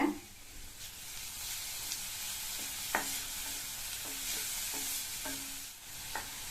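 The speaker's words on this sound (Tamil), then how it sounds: "இதை சேர்த்துட்டு கூடவே 2 பிஞ்ச் மட்டும் மஞ்சள் தூள் சேர்த்து வதக்கிக்கங்க" Grated carrot with a pinch of turmeric sautéing in a pan, a constant soft sizzle broken by several sharp spatula scrapes and taps against the pan, no voices.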